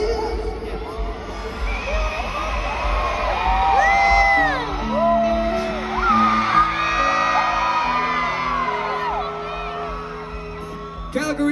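A big concert crowd in Calgary whoops, screams and cheers without a break at the end of a set, with high shrieks rising over a steady roar and sustained music tones underneath.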